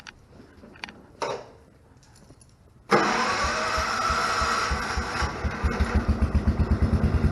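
An old engine that would not start at first is cranked a few times, catches with a sudden loud roar, then settles into a rough, uneven idle with rhythmic pulses close by.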